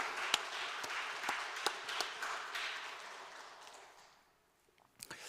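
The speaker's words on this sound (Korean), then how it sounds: "우리 어른 세대들이 우리 젊은 세대를 향해서 훌륭하게 인생도 그렇고 신앙생활 잘하라고 우리 축복의 박수를 보내겠습니다" A church congregation at a Lent special dawn prayer service applauds to bless the younger generation, a scattered, moderately faint round of clapping that dies away near the end, followed by a few last claps.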